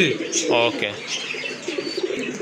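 Racing pigeons, including a black check pair, give soft throaty coos close by while someone speaks briefly over them.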